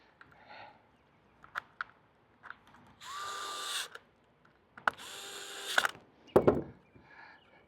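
A small power driver tightens screws on Kydex holster clip hardware in short bursts, with a few clicks and taps between two longer whirring runs and a final brief buzz.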